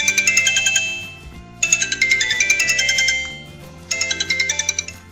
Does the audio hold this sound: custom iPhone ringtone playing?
yes